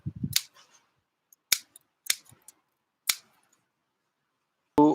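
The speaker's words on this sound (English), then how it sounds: "You also cut off the thorns and any buds that are there." Pruning shears snip thorns off a plant cutting prepared for rooting, four or five sharp crisp clicks spaced about a second apart, close and alone in near silence, with a brief voice sound at the start.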